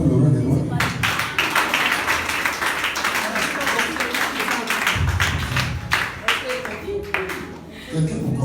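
A church congregation claps in quick, uneven bursts while voices acclaim and a preacher speaks loudly over them, the clapping strongest early and tapering toward the end.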